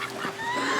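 Meat chickens mixed in with ducks in a farmyard give a brief, moderately faint honking cluck lasting under a second.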